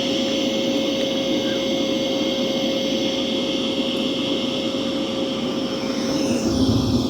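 A Dreame Matrix 10 Ultra robot vacuum cleans carpet, holding a loud, steady whirring drone with a sustained whine from up close. Its pitch shifts slightly near the end, and no one talks.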